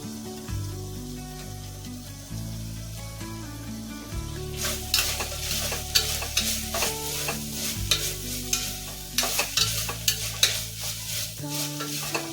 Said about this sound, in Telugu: కొంచెం బాగా ఫ్రై చేసుకోవాలి